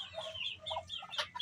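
A farmyard chicken clucks several times in quick, bright bursts, close and clear with a quiet background.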